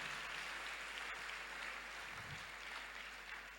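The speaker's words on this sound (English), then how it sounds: "with a resounding round of applause, let's welcome Alhaji Inusa Mahama" An audience at a youth empowerment summit clapping to welcome a speaker to the stage; a steady wash of moderate, somewhat distant applause with no break.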